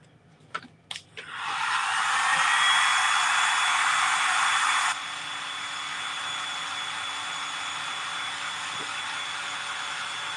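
A hair dryer blows on fresh paint on thrift store duck hook wall decor, clicking on after a few handling knocks, then a steady loud hiss that drops to a lower, softer setting halfway through.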